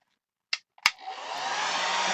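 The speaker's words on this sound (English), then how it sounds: "Also, this hair dryer" A hair dryer on its cool setting is used to dry a gelli print; two clicks come first, then the motor starts and settles into a steady, close airy whir.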